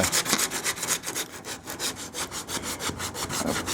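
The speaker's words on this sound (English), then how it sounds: "So I'm going to use both hands and sand that" Flat block sanding the rear trunk lip of a 1929 Chrysler, a steady back-and-forth rasping of abrasive strokes repeating rhythmically and close, with no talking.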